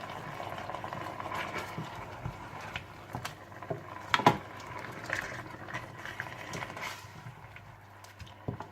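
Masala chops simmer in a karahi with a little water and salt, giving a soft, steady bubbling and sizzling with small pops and a brief louder clatter midway; no one speaks.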